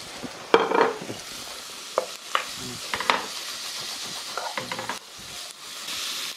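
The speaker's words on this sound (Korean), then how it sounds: "양파를 절반 이상 익을 때까지 볶아줍니다." Sliced onion and bell pepper stir-fried in a pan for a tomato shrimp spaghetti, with a steady close sizzle and sharp utensil scrapes and clinks against the pan at irregular intervals.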